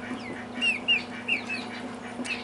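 Young chicks in a poultry nursery give soft, high chirps and clucks, a handful of short calls scattered over a steady low hum of background equipment, fairly close and alone.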